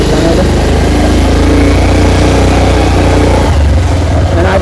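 A motorbike engine runs close by at loud volume, a steady low rumbling drone that shifts near the end as it eases off.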